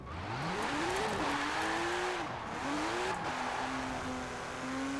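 A car on race tires slides sideways in Forza Horizon 4, its engine note rising and falling steadily through a sustained drift, with faint tire scrub underneath and no talking.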